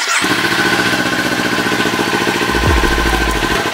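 A Kawasaki Ninja 400 engine runs steadily at close range with a throbbing mid-pitched idle, and a deeper low thump swells near the end as it is clicked into gear.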